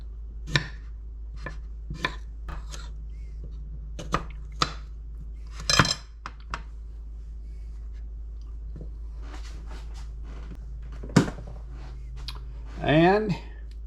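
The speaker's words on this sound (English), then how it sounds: "we're going to take the cucumber and we're going to slice it into circles" A knife chops through cucumber into rounds for a tomato and tuna salad, striking a board or plate in sharp, separate cuts spaced irregularly, with a quicker cluster of cuts near the end. A voice can be heard talking under the chopping.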